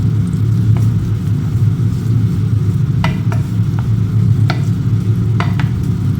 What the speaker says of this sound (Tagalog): Ito ay ka-caramelize lang natin or ka-translucent lang ating onion.